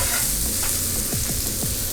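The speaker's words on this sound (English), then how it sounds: "Add a little bit of oil to those, shake them up." Udon noodles tossed in a little oil for a lamb stir fry sizzle loudly and steadily, with a few quick stirring scrapes cutting through the continuous hiss.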